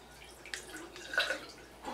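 Liquid pours and drips briefly in short splashy bursts from a film developing tank, fairly quiet, with a soft trickle trailing off near the end.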